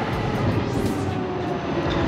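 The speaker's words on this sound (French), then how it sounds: "Petit tramway." A small tram rumbles steadily past close by, a loud, continuous rolling roar with a brief rising whine partway through.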